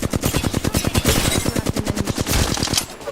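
Rapid automatic gunfire bursts from an Apex Legends firefight, loud and close, a dense run of sharp cracking shots nearly continuous across the moment.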